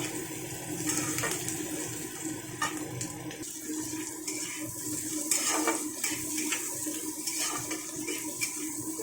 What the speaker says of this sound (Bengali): এটাকে বেশ একটু নাড়াচাড়া করে ভেজে নেব।